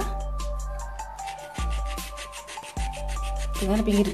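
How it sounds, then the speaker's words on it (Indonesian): Close, steady scraping of sandpaper along a jar rim in repeated short strokes, broken by a couple of brief handling thumps. "dengan pinggir-pinggiran toples ini, kita amplas agar lebih rapi."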